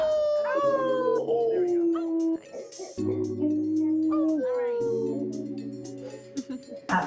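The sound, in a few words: people imitating a wolf howl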